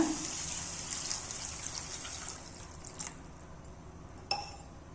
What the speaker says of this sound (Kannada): ಸ್ವಲ್ಪ ನೀರು ಹಾಕೊಳ್ತಾ ಇದ್ದೀನಿ ಇವಾಗ